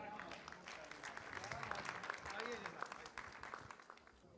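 Audience at an Urdu poetry conference in the USA applauds poet Atif Tauqeer, soft, sustained clapping from a crowd with faint voices mixed in.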